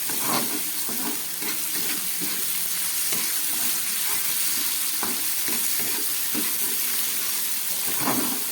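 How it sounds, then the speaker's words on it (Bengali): Spice paste and raw tomato fry in a hot pan with a loud, continuous crackling sizzle and occasional stirring scrapes and taps, heard up close with no talking. "মশলা দিয়ে কাঁচা টমেটোটা খুব ভালো করে ভাজা হয়ে গেছে,"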